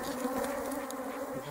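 Honeybees stirred up during hive care buzz in a continuous, steady drone with a clear pitched hum, close to the listener and fairly quiet, with no voices.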